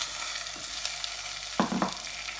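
Lamb meat dropped into a pot of warmed onions over medium heat, a steady moderate sizzle with a couple of louder thuds and scrapes of stirring, close and without talk.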